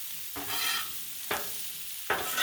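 Pierogi, kielbasa and cabbage stirred on a hot Blackstone griddle: a steady soft sizzle broken by three sharp scraping strokes of a spatula, evenly spaced and close, with no voices.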